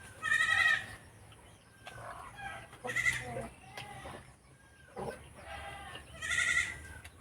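Goat bleating on a farm in the early morning, several loud bleats at intervals over a low outdoor hum, with faint other farm animal and bird sounds in the background.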